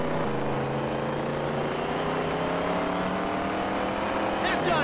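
Race cars in the video game Dirt Track Racing 2 drone steadily with layered engine tones that rise in pitch, loud and continuous through the whole stretch, with a brief higher whine near the end.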